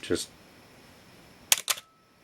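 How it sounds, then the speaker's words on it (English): Two mechanical shutter clicks from a Canon AE-1 Program 35mm film camera at slow shutter speed, the second a quick double snap, with a noticeable gap of quiet between them; close and crisp. "we can hear that the electronics are controlling the shutter"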